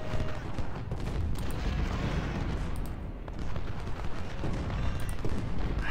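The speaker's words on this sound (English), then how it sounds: "We got gunboats firing into him, cratering the whole area, but not doing any damage." Gunboats shelling an area in the Civil War strategy game Ultimate General Civil War at the Battle of Shiloh, heard as a dense, steady rumble of distant artillery and massed gunfire with no clear pauses, constant and fairly loud throughout.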